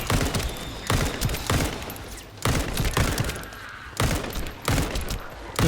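Gunfire in the shooter game The First Descendant, loosed in rapid bursts with short gaps between them, loud and close, separated by a few brief pauses.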